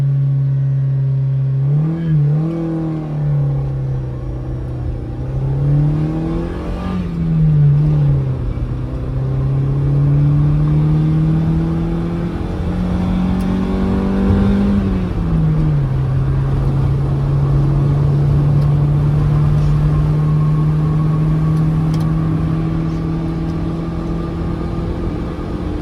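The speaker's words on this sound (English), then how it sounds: "Revving the motor all the way to 5500 rpm and cruising about 120." A stock Honda City VTEC engine revs high toward 5500 rpm, a loud steady drone that climbs and falls in pitch through several rev sweeps before settling into a sustained cruising hum.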